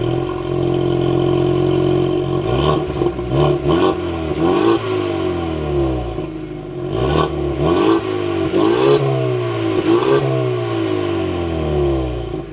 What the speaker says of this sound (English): keep my foot on the brake, we go ahead and fire it up.